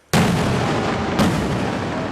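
A 51mm mortar fires on a CRPF training range near Srinagar: two loud, sharp blasts about a second apart, each trailing into a long, rumbling decay, with no talking.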